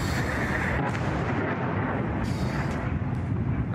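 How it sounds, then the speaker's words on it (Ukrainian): Air defense missiles bursting in the sky over Sevastopol make a continuous, loud, distant-sounding rumble of booms and blasts, dense and unbroken, with no talk over it. "Над нами зенітні ракети, що вибухають у небі."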